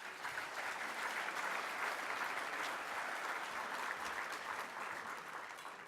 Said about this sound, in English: Let's give our sponsors, all of our sponsors,